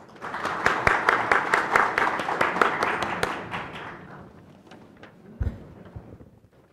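At an architecture forum, the audience claps to welcome the association president to the stage, a burst of many sharp hand claps that swells, then thins and fades out, leaving a single louder knock near the end.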